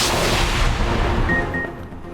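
Modern artillery fire along a military frontier, a heavy booming blast with a rolling, fading rumble lasting a couple of seconds, loud and without speech.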